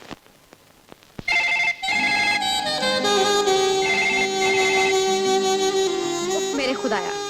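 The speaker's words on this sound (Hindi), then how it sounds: "फोन बजता जा रहा है, बजता जा रहा है" A loud, sustained electronic ringtone plays continuously for several seconds after a few quiet clicks at the start.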